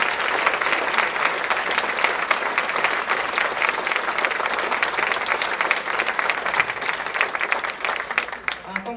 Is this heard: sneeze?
no